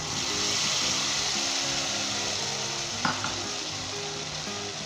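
Mutton sizzles and fries steadily in a pan as red chili paste goes in for a Rajasthani laal maas curry, a dense, continuous crackle with a small stir-like bump near the end, close and fairly loud, no talking.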